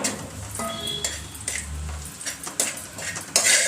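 Cashews and raisins frying in ghee in a pan, with a spoon clinking and scraping against the metal in irregular bursts over a soft, low sizzle.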